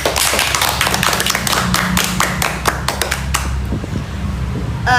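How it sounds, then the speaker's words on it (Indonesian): A crowd claps steadily and densely for several seconds, the applause thinning slightly toward the end. "kita berikan tepuk tangan untuk pendapat dari Cika."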